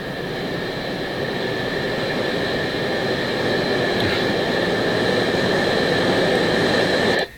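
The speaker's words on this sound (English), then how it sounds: "train going over top." A loud, sustained rumble of a train passing over a building, steady throughout with a faint high whine, cutting off abruptly at the end.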